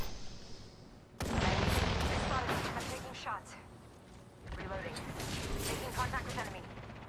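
Dense gunfire and blasts in a battle royale shooter, a loud sustained barrage that breaks off briefly and then resumes, with voices talking over the fighting.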